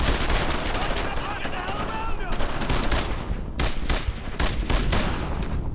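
Dense, loud World War II gunfire from a Brothers in Arms: Earned in Blood battle, rifles and machine guns rattling in rapid continuous bursts with brief gaps, while soldiers shout orders over it.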